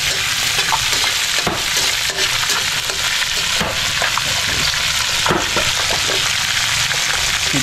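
Garlic fries loudly in a hot pan for escabeche, a dense continuous sizzle broken by occasional scraping stirs, with no talking.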